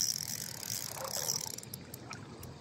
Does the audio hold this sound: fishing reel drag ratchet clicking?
yes